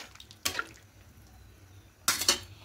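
Water poured into a pan of white potato and poppy-seed curry cooked in ghee, heard as two short splashing bursts, the second a little louder, over a quiet kitchen background.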